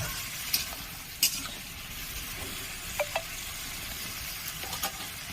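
Ridge gourd and potatoes sautéing in a pan give a steady, moderate sizzle, with a few light spoon taps against the pan.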